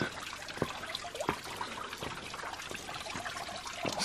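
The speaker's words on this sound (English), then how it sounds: "this is not the main waterfall" A small waterfall trickles near Burden Falls in Shawnee National Forest, southern Illinois, giving a steady close wash of running water with light splashes and drips throughout and no voices.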